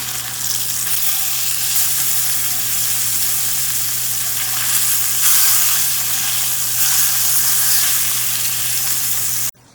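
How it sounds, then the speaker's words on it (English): A Chilean sea bass fillet sears in a hot pan with a loud, continuous close-up sizzle and hiss that holds steady, then cuts off abruptly at the end. "So we'll let that sear up on both sides"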